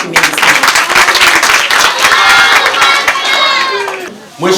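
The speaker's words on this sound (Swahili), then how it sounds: "Hebu tupige makofi mengi sana." An audience at a public event bursts into loud, dense applause that holds steady for several seconds and then tapers off, with some cheering mixed into the clapping.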